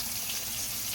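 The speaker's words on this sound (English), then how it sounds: "I just want you guys to hear the frying sound of that fish." Fish frying in hot oil gives a continuous, close sizzling hiss, even and unbroken for the whole moment.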